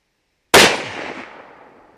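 A single loud Ruger .308 rifle shot cracks out sharply at close range after a short silence, then its echo decays over about a second and a half.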